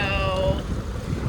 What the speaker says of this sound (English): It's super, super windy too.